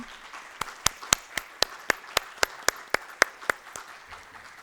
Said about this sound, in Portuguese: convidamos a todos a saudar o nosso conferencista aí com uma salva de palmas